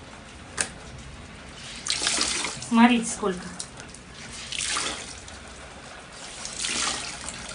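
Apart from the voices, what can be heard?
rainwater dripping from balcony above into a basin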